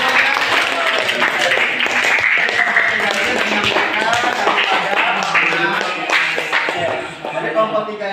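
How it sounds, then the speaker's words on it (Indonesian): A school class applauding a presenting group, a loud sustained burst of many hands clapping mixed with chatter and voices. "sekali lagi tepuk tangan dulu untuk kelompok 3"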